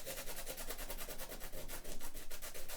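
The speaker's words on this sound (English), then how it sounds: "See, I'm scrubbing, but I'm not pressing too hard." Salt being lightly scrubbed off watercolor paper with gentle pressure, a steady close-up rubbing and scraping that runs in quick repeated strokes for the whole stretch, with no talk.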